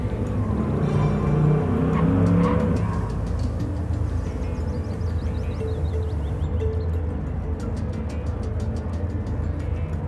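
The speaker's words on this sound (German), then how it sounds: "am Lago Maggiore fahren wir hier alle mit demselben Auto, Camaro Z28, 69er Baujahr" A 1969 Camaro Z28 races with identical cars at Lago Maggiore in the GT Sport video game, a loud continuous engine roar and rumble that holds steady throughout, with no talk.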